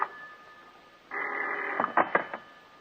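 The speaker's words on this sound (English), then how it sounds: "the phone bell cut through the darkness like a knife." Telephone bell ringing in the dark of night, a steady electric ring followed by a few sharper bursts, fairly close and alone.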